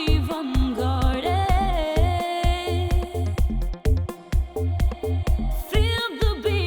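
Sung vocal over a steady electronic beat, treated with the RP-VERB 2 reverse reverb so swelling, backward-sounding tails rise into each phrase, loud and continuous throughout.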